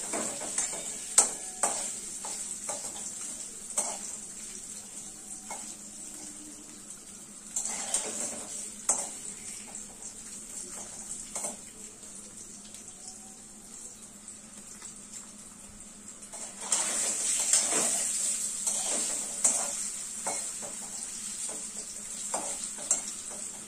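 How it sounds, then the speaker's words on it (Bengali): Paneer pieces frying in hot oil in a pan: a soft continuous sizzle broken by frequent clinks and scrapes of a utensil against the pan, growing louder and busier toward the end. "তেলটা গরম হয়ে গেছে, পনিরটা আমি দিয়ে দিলাম। জাস্ট একটু হালকা করে ভেজে তুলে নেব।"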